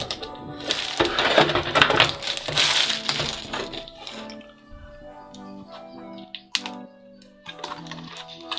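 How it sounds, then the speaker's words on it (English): Plastic shrink wrap torn and peeled off a VibraCooler portable air conditioner during unboxing, with loud crinkling rips at first, then quieter scattered crackles and a few sharp snaps, close up with no talking. "Bit more plastic around here, so I'm going to take off"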